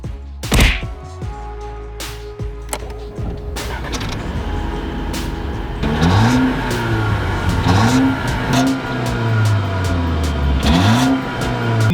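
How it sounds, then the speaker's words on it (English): A car engine revs up repeatedly, rising and falling in pitch with several throttle blips, loud and close, after some thumps at the start. "doesn't let you rev it up even higher, so that's the best you're gonna get out of the sound"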